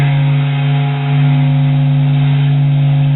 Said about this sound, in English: Waves are constantly traveling and bouncing around inside the sun, and this is the sound of it.